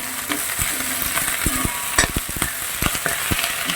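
Moringa leaves being sautéed in a pan give a steady sizzle, with spoon scrapes and knocks against the pan coming close and clear in an uneven rhythm, heaviest around the middle.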